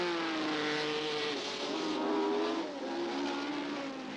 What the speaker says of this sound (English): these cars are still touching 125 miles an hour